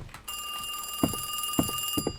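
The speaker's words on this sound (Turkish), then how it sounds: "Telefonumuz çaldı." A telephone rings in The Pizza, a horror video game: a steady, bright electronic ring runs continuously through most of the moment, with a few dull thumps underneath.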